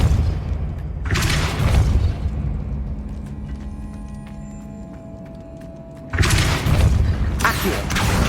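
Two heavy whooshing blasts from a Depulso force spell cast in Hogwarts Legacy, loud and close, separated by several seconds of quieter humming game ambience with a faint tonal shimmer.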